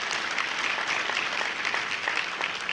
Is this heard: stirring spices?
no